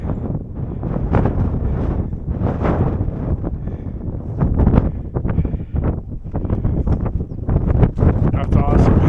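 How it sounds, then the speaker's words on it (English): Strong wind on a California mountain peak roars and buffets the microphone continuously, with a voice talking underneath the gusts. "Super windy up here."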